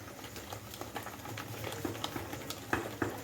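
Second batch of ground urad dal fritters frying in hot oil, a steady bubbling sizzle with scattered pops and crackles, close and continuous throughout.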